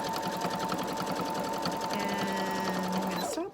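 Sewing machine stitching a straight line across fabric while sewing a bra with a zipper, a steady, loud, rapid mechanical whirr that runs continuously, shifts pitch partway through, then stops abruptly at the end.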